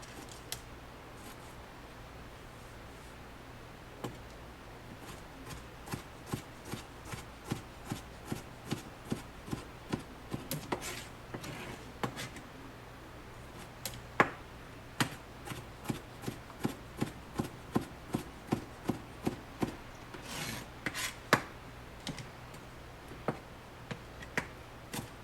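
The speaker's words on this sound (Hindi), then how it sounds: "उनमें मैं एक बड़े साइज़ का टमाटर डालूंगी बारीक बारीक कट करके" A tomato is chopped finely with a knife on a board, producing a long run of quick, light taps in uneven bursts, faint and fairly close, with no talking.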